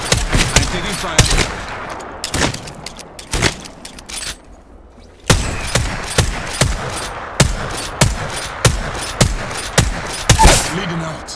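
Incoming gunfire in a video game, sharp loud single shots and short bursts cracking in irregular succession, with a brief lull midway before steady, evenly spaced shots resume.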